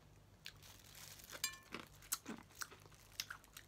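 Close-up chewing of a crunchy Myanmar snack, lahpet with fried beans and pickled tea leaves: a run of sharp, irregular crunches and bites, quiet but crisp and near, with no talking.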